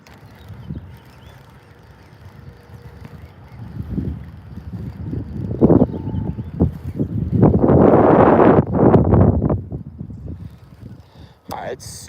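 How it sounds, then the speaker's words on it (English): Gusty wind buffets the microphone in rumbling bursts, swelling loudest toward the middle, with faint background sounds between gusts. "It's super windy right here"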